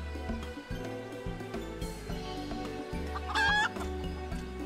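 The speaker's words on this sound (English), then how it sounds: "Cluck cluck cluck!" A chicken clucks in a quick, rhythmic series of close, fairly loud calls, repeating steadily with a brief higher squawk near the end and no talking over it.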